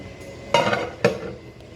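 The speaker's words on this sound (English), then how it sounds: "So I'm washing all the bowls that I used for the prep" Bowls and dishes from vegetable soup prep being washed, two sharp clattering knocks of crockery close by, then a brief quiet clink, with no talking.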